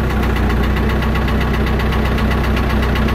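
A John Deere 450 backhoe's diesel engine runs loud and close at a steady idle with a rhythmic knocking throb and constant mechanical vibration, no voices over it.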